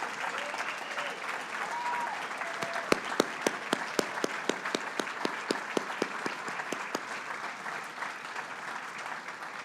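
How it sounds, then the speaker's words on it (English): A crowd applauds steadily, with sharp individual claps standing out in the middle, fairly distant and lasting several seconds. "let's give them a round of applause"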